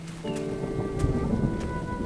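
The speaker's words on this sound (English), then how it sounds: "The sound of thunder, which is so good." Thunder in an early autumn woodland by a pond, a deep rolling rumble that swells and lingers with rain-like hiss and a faint tonal hum underneath.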